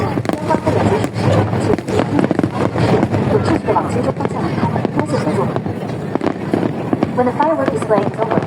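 A Hong Kong National Day fireworks display near Admiralty bursts and crackles continuously, loud and dense, beneath a crowd's voices and talk.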